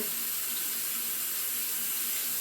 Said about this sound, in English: I'm just going to put a little extra water over that to cover